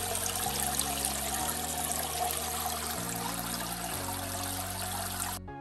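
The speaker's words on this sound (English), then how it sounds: "Pressing the big blue button repeatedly will start bringing in water in the tube." Water trickling and streaming steadily through the tubes of a SunSun 304B aquarium canister filter, a continuous close flow that cuts off abruptly near the end.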